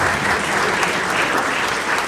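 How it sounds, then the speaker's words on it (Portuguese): Congregation applause at a Christmas cantata in church, a dense, steady wash of clapping hands filling the space, loud and continuous throughout. "Aplauda o Senhor."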